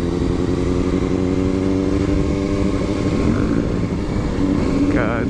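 Honda motorcycles with straight pipes idling and revving at a car meet, a steady, loud, close engine drone that fills the whole stretch, with people talking over it.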